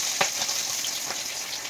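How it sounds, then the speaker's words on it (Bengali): Oil spits and crackles in a pan as an egg fries with dried chillies, a steady close sizzle with a few sharp pops and no talking. "তবুও তেল ফাট ফাট করে ফুটে যাচ্ছে আমার গায়ে।"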